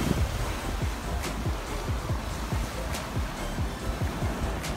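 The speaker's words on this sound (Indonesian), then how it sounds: "deburan ombak di Tanah Lot." Ocean waves break repeatedly on the shore at Tanah Lot beach in Bali, a continuous roaring surf with wind noise buffeting the microphone.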